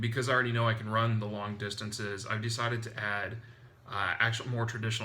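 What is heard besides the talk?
No everyday noise stands out behind the speech.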